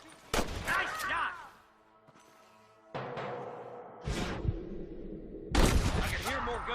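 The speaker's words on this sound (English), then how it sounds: "I can hear more gunshots" Gunshots in Red Dead Redemption, several sharp loud cracks with ringing tails scattered across the stretch, some close and some trailing off, mixed with game ambience and no speech.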